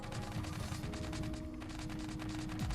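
A custom-built tank in Scrap Mechanic fires its guns in a fast, steady stream of sharp, evenly spaced reports, loud and mechanical throughout with no voices.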